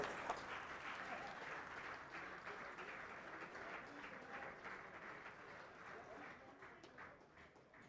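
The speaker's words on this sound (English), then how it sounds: "let's welcome them with a huge round of applause" An audience at an awards ceremony gives a sustained round of applause, with dense, steady clapping from a large crowd holding an even level and a few louder claps standing out throughout.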